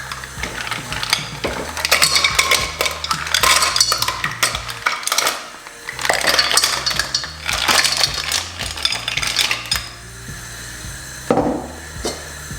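Mussels tipped into a hot pan with thyme and a bay leaf set off loud, busy clattering and rattling of shells on metal, with a brief lull midway before the jangling resumes, and no voices.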